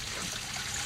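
Spring water pours from a spout in a soft, steady hiss and trickle, quiet and close, with no voices in the brief moment.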